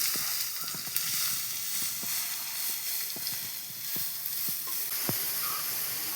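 Long-sliced onions sizzle steadily in a pan while being stirred, a continuous hiss broken by scattered light scrapes and taps of a spoon, close and moderately loud with no talking.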